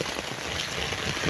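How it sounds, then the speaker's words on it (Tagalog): Heavy rain pours during a storm as a dense, steady hiss of drops drumming on surfaces, close and continuous with no break. "Lakas ang ulan."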